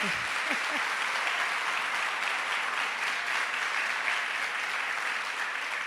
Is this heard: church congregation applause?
yes